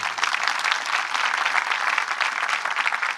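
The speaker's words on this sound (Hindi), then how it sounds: "यीशु के लिए जोरदार तालियां" A church congregation at a Christian worship meeting breaks into loud, dense applause for Jesus, a steady wash of many hands clapping at once that holds evenly for the whole stretch with no voice on top.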